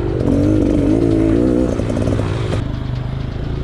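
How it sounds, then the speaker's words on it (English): An adventure motorcycle ridden fast, enduro style, on a trail roars loud and close with a sustained high engine note, then the pitch drops and the sound thins as it moves off. "That's like fast enduro riding for me"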